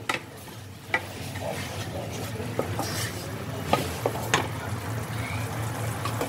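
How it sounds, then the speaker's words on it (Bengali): A masala paste for pabda fish jhal bubbles and spits in a pan over a high gas flame, a constant frying hiss broken by scattered pops and scrapes of stirring. "গ্যাসের ফ্লেমটাকে হাইতে দিয়ে মশলাটা ফোটা অবধি আমি অপেক্ষা করব। ফুটতে শুরু করেছে।"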